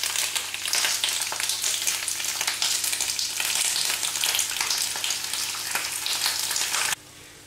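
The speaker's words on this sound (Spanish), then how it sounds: "Mientras salteamos los tirabeques con un poquitín de aceite de oliva en una sartén de aluminio anodizado" Snow peas sauté in a little olive oil in an anodized aluminium pan, giving a steady, close, crackling sizzle with occasional stirring scrapes that stops abruptly just before the end.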